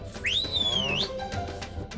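A bus conductor blows one short, shrill whistle lasting under a second, rising in pitch and then wavering, heard close on a bus.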